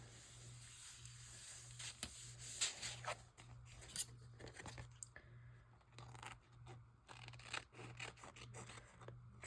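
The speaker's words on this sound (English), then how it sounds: "Trim us up a little bit." Scissors snip and rub along the edges of a paper journal card, producing a series of close, dry cutting and scraping strokes at an irregular pace over a faint steady hum, with no talking.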